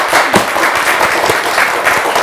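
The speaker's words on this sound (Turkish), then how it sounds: "Bu güzel başlangıca ve bu talihsizliğe çok cılız bir alkış verdiler bence." Thin, scattered studio audience applause on the Turkish word-game show Kelime Oyunu, a steady patter of claps at moderate level lasting a couple of seconds with no talk over it.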